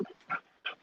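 A puppy makes a few short, faint whimpering yelps, three quick bursts close together, with no talk over them.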